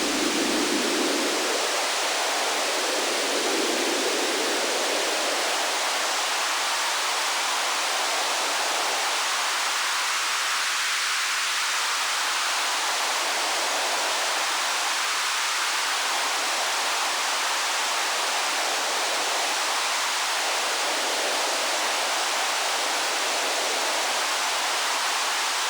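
Synthesized running water patched in VCV Rack: a dense, steady hiss of filtered noise with slow swelling resonant sweeps, like a rushing stream, continuous and fairly loud with no voices.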